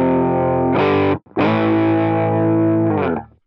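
Compressed, distorted electric guitar tone from a TONEX amp simulator: a chord sustained evenly, a brief gap, then another long held chord that fades out smoothly.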